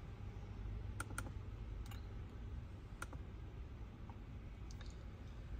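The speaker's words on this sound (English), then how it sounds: "then start typing in speedo" Keys tapped on a computer keyboard during vehicle module configuration for a 2025 F-150, a few sparse faint clicks spaced over a steady low background hum.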